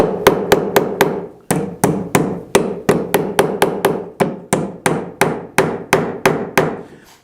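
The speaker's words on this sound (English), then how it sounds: "now I'll hammer it over alternately until I get this started right where I want it to be" A hammer strikes a cut nail in wood again and again, bending it over to clinch it, in a close, loud series of sharp, evenly spaced blows with one short pause near the start.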